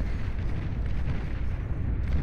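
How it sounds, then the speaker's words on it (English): The Cerberus geothermal cannon firing in the Beyond All Reason real-time strategy game, a dense continuous rumbling roar of blasts and explosions, loud and unbroken throughout. "Cerberus geothermal cannon"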